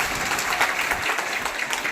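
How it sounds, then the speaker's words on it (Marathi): Dense, steady clapping from an audience welcoming a guest at a Press Day event, a continuous wash of applause that holds at an even level from start to finish with no talking. "दादांचा आपण टाळ्या वाजून या ठिकाणी मनापासून स्वागत करा"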